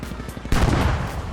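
Tank cannon firing a sabot round in an urban tank battle in a video game, with a single loud, heavy blast and rumbling decay after a stretch of quieter engine and battle noise.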